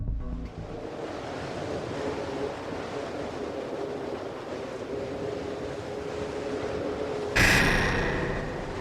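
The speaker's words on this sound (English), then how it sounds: "Shoved by a wind that had now reached 175 miles an hour" Roaring wind of a violent storm at sea, gusts near 175 miles an hour battering a steel-rigged sailboat, a loud continuous rush with surf-like wash that surges sharply near the end.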